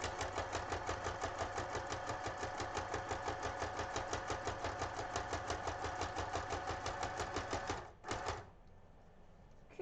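A sewing machine stitches lace onto an envelope with a fast, steady mechanical chatter of needle strokes that runs evenly for about eight seconds, then stops abruptly, leaving a quiet motor hum.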